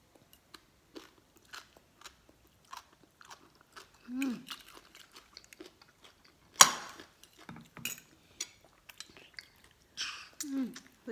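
Someone eats spicy papaya salad with pickled crab, with crunchy bites, chewing and wet slurping sucks at the crab repeated through the clip, alongside occasional clinks of cutlery and brief bits of speech.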